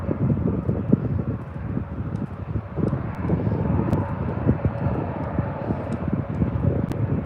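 An airliner taxiing at Birmingham Airport, its engines a steady low rumble and whine close by, mixed with gusty wind buffeting the microphone and occasional faint ticks, with no voices.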